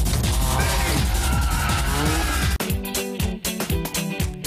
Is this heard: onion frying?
no